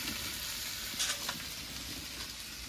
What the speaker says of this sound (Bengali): লবণ হলুদ দিয়ে নেড়ে চেড়ে একটু ভেজে নেওয়ার পরে বাটা লঙ্কাটা দিয়ে দেবো